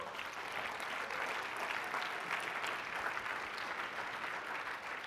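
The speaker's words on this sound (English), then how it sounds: "Let's give them a round of applause, too." A crowd at a business meeting applauds the behind-the-scenes events team, with a steady wash of many hands clapping at moderate distance, even and unbroken throughout.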